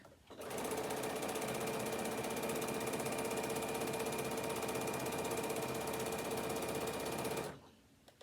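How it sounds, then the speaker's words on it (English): Sewing machine running steadily as it top stitches along the edge of a fabric piece for a tablet holder, a close, continuous mechanical whir lasting about seven seconds before stopping. "top stitch along the very edge of this piece, and then about 1/4 of an inch away again"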